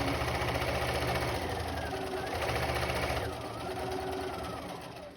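A sewing machine quilting a quilt with a longer stitch length runs continuously and close by, a steady rapid mechanical chatter throughout, easing slightly near the end.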